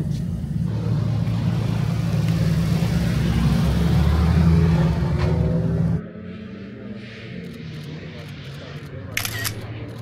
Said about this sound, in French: Le Fuji Speedway au volant de la Mazda, comme si vous y étiez